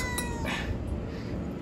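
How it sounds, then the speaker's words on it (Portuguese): A cat meows once, close and clear, over steady low background noise in an outdoor alley setting. "Esse gato aqui é zica."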